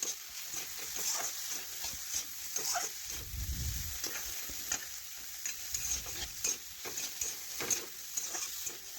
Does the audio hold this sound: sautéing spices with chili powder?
yes